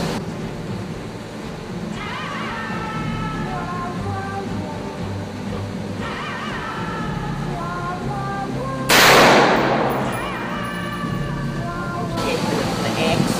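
Gunfire at an outdoor target range, with a sharp loud report standing out over steady wind noise and people talking throughout.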